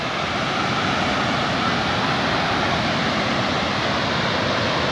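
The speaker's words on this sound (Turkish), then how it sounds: "Kocaman bir şelale var şurada. Çok büyük güzel bir şelale yapılmış." Large man-made waterfall roaring as a dense, steady rush of falling water, loud and unbroken throughout, close by in an outdoor park setting.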